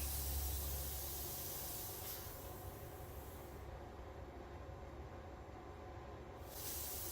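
Compressed air leaks from a scuba diving surface rig with a full-face mask, making a faint continuous hiss that dips slightly in the middle and swells again near the end.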